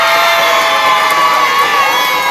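A loud, sustained crowd cheer with high-pitched shouts and whoops fills the room as the audience votes by applause for contestant number 2 in Baywatch 2008.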